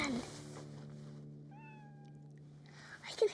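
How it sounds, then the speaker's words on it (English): A cat gives a single drawn-out meow at a distance, faint over a steady low hum in a quiet early-morning residential street, with a voice briefly at the start and end. "I can hear a cat meowing"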